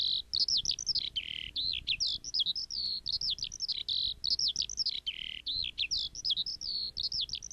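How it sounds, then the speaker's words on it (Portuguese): A bird sings steadily in bright, repeated chirping phrases with short gaps between them, fairly close, with a low rumble of background noise underneath. "E o canto de um pássaro, gente."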